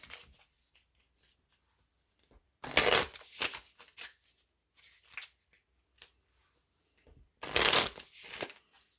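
Oracle cards are shuffled in two loud, close riffling bursts, separated by quieter gaps holding faint handling sounds.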